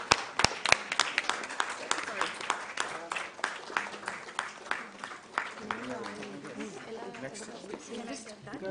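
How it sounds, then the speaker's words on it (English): Scattered audience clapping at a lupus awareness ramp walk event, with distinct individual claps standing out at first, then thinning toward the end as voices and chatter carry on over it. "Everyone, please applaud for them."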